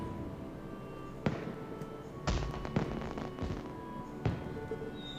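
Fireworks go off during a show in the Trails to Azure video game, with several sharp bangs and crackles spaced apart over a steady background hiss.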